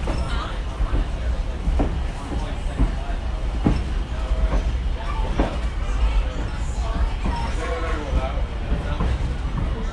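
A train on the Downeast Scenic Railroad rumbles steadily along the rails with rhythmic clicks and clatter from the wheels, a continuous loud rolling noise throughout.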